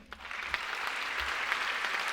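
An audience applauds steadily as a judge is welcomed at a competition event, a short continuous patter of many hands clapping at moderate distance.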